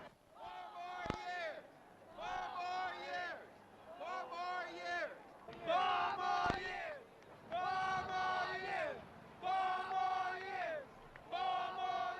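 A crowd greeting President Richard Nixon during an election campaign, with bursts of loud cheering and chanting voices rising and falling in roughly seven repeated waves, close and full.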